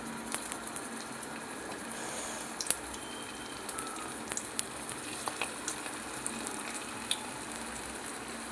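Momos fry in hot oil with a steady, close sizzle throughout, broken by occasional small pops and crackles as pieces go in.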